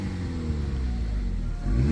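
A Toyota Calya's engine idles smoothly up close, then revs up toward the end in a short rising surge.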